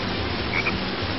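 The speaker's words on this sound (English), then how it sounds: "Hey, there's a frog over there!" A short frog croak in the Frog Forest jungle stage of the PS2 game Sonic Heroes, faint and brief against a steady wash of ambient game noise.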